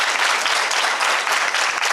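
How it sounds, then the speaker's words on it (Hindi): An audience at the Prerna school for blind children in Hirapur bursts into loud, sustained applause for Sakshi after her song, many hands clapping in a thick, steady wash with no pauses. "एक बार जोरदार तालियां साक्षी के लिए"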